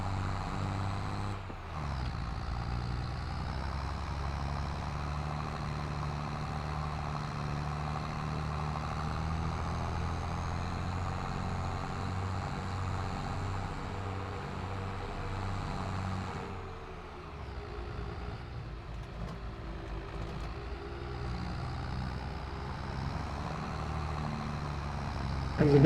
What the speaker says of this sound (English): Give me some power, tractor, for God's sake. John Deere, you should have power.